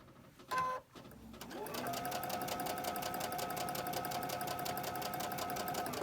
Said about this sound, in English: And then all I do is just sew it.